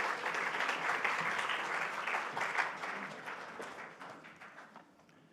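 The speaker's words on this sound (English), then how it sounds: "Could we have a big round of applause for all our finalists, the Community Event of the Year?" An audience at the 2021 NSW Community Sports Awards applauds the Community Event of the Year finalists with dense, sustained clapping that gradually fades away.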